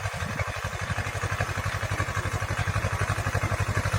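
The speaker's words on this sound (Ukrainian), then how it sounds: "Копаємо трактор Т-3069, копалка бомет, транспонтерна однорадкова." A T-30-69 tractor pulling a Bomet single-row elevator potato digger, its engine thudding in a fast, steady rhythmic pulse with metallic clatter from the digger over it, running close and continuous.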